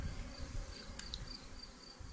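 Honeybees hum at an apiary beehive, a faint, steady buzz close by, with a couple of brief sharper clicks and no voices.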